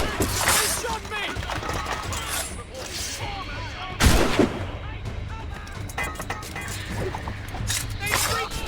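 A chaotic naval battle in Assassin's Creed Rogue, with dense gunfire and booming cannon shots over a constant roar, one sharp heavy blast standing out midway, while voices shout throughout.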